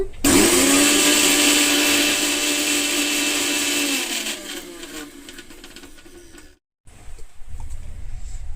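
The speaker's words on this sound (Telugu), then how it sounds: "ఇంత వాటర్ వేసి ఇంకొకసారి మిక్సీ పడదాం" A mixer grinder grinding tamarind-leaf and mint chutney whirs loudly for several seconds, then slows and winds down, cuts out briefly, and is followed by clattering handling noises.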